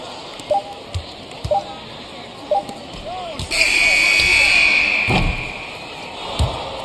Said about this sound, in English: Final buzzer sounds, and that'll do it.